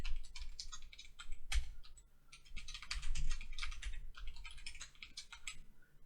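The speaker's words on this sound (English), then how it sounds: "Let's do some typing." Quiet, steady clatter of fingers typing on a computer keyboard while coding, in irregular bursts with short pauses.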